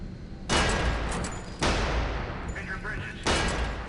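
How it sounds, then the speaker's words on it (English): Meaty gunfire from the weapons of the 2005 video game Area 51, heard as three loud, broadband blasts roughly a second apart, each decaying into a rumbling tail, with a faint tonal sound between shots. "The weapons feel meaty, even the simple pistol sounds like it packs a punch."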